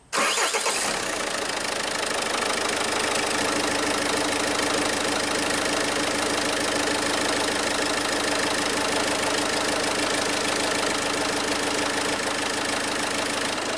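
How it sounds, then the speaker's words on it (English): A common rail diesel engine turns over and settles into a steady, loud idle, its rough rhythmic clatter continuing unchanged without any voices. "Start the engine."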